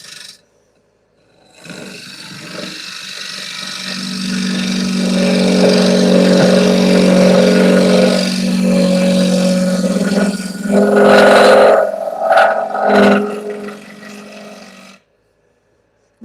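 A wood lathe turning at about 1,500 RPM while a tool shapes a wooden bowl, rising into a loud, sustained humming scrape with tonal drone, then several sharp rasping cuts near the end before stopping abruptly.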